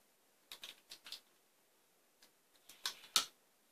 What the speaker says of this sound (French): Et je mets un bout de scotch.